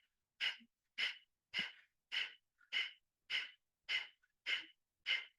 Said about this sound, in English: begin to just practice the breath of fire